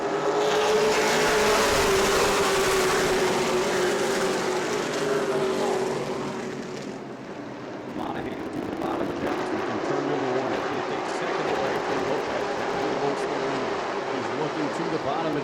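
Race cars roar around the oval at New Smyrna in a steady, loud pack, the engine drone swelling and easing as they pass, with a commentator talking over the noise.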